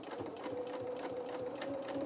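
A sewing machine stitches through thick felt, close and steady with rapid even needle clatter and a faint motor hum.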